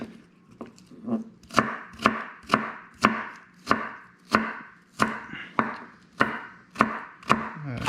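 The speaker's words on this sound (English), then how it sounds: "I like to cut the onions in small pieces." Onions chopped into small pieces with a knife on a cutting board, a steady run of about a dozen sharp, close knocks at a brisk even rhythm, with no talk.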